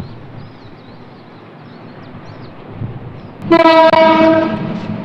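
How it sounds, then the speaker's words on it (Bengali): A train approaches on a long steel arch bridge in Mymensingh, Bangladesh. A low rolling rumble builds before a loud, sustained horn blast breaks in near the end and holds for over a second. "ট্রেন আসতেছে, ট্রেন ট্রেন ট্রেন।"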